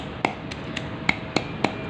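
A pestle pounds ginger, garlic, mint and pomegranate-seed chutney in a mortar, giving about six crisp, nearby thuds at a slightly uneven pace with short quiet gaps between them.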